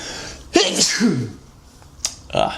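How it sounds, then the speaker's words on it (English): A single sharp sneeze, close and loud, with a quick breath and a brief sound from the same person just after. "I had to sneeze"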